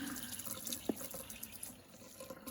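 Water runs from a kitchen tap while being added to cornmeal for Southern fried cornbread, a soft steady stream with a faint splash, fairly quiet and without voices.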